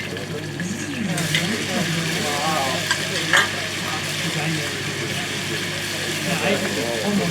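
Garlic and ginger frying in a pan in an Indian village kitchen, a continuous sizzle with occasional stirring scrapes, while people talk over it.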